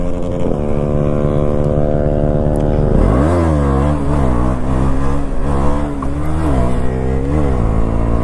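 A KTM Duke 200 motorcycle engine idles with a steady, close drone, then revs hard and unevenly in repeated throttle blips as the rider prepares for a wheelie. The sound is loud, with no talking.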